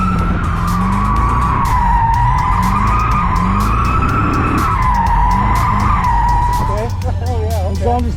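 A twin turbo Callaway Corvette drifts with a loud, sustained tire squeal that wavers in pitch over a rumbling engine, close by and continuous, ending in choppier skidding chirps.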